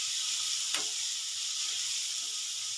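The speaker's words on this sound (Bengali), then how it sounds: "আমি চিংড়ি মাছটা এখানে ভেজে নেব" Prawns coated in salt and turmeric fry in hot oil with an even, constant hiss and sizzle, broken once by a single sharp pop.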